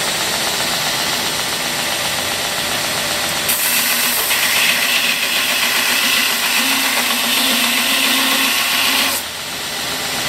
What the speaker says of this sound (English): We're going to do a test grind. Got a block of steel in my back pocket.